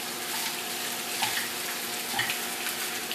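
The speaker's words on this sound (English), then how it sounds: "Mix it up, just enough to heat it actually." Butternut squash with cranberries and pecans being stirred in a hot pan, a steady soft sizzle with faint scraping, even and continuous at moderate volume.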